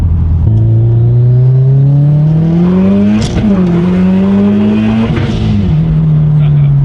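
Built Subaru STI turbo engine revving hard under acceleration, a loud, close, rising engine drone with gear-change dips and turbo whir, voices talking over it inside the car.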